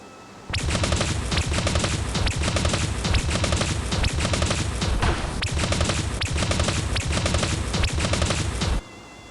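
Machine gun fire in the Dragon Raja video game, a loud sustained burst of rapid repeated shots with rhythmic pulses, starting suddenly and cutting off near the end.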